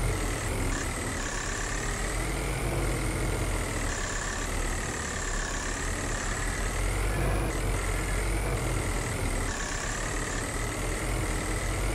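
A truck engine in Farming Simulator 22 labouring steadily uphill on a mountain property, a loud, continuous drone with a whining tone that rises and falls slightly in pitch throughout.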